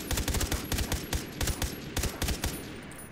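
Gunfire in Far Cry 3: several quick bursts of loud, close automatic shots separated by short pauses, continuing for about three seconds and then tapering off.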